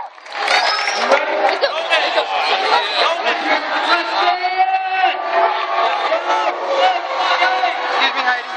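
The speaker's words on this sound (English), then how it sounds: "Because it's time for our class yell!" Students at a school assembly yelling their class yell together, many voices shouting and cheering loudly in unison across the whole stretch, echoing in a large room.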